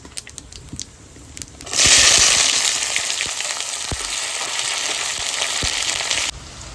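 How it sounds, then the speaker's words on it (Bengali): Chopped onion hits hot oil already seasoned with cumin seeds, bay leaf and dried chilli, starting a loud, steady sizzle after a few faint clicks and continuing to frying until it cuts off abruptly. "জিরে তেজপাতা শুকনো লঙ্কা এবার দেবো কুচানো পেঁয়াজ"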